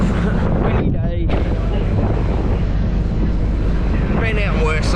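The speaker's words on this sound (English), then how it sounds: "It's pretty blowy today, so I might take my hat off or I might lose it." Strong wind buffets the microphone during a boat ride from Wynnum toward Macleay Island. The roar is loud and continuous, mixed with low engine and water rumble, and brief voices and cries break through near the start and end.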